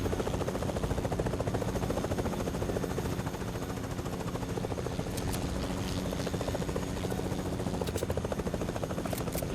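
Helicopter in the video game Fortnite, rotor chop whirring steadily and close throughout, with a few sharp distant gunshot-like cracks breaking through near the end.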